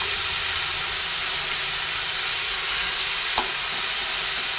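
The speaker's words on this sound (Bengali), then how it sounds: "খুব সুন্দর করে ভাজা হচ্ছে" Malabar spinach stems frying with a hilsa fish head in hot oil give a steady, dense sizzle and hiss that holds even throughout, with one brief clink partway and no voices.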